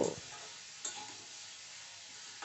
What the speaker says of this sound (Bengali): এবার ওই ফোড়নের সাথে চাল কুমড়ো ভালো করে মিশিয়ে নেব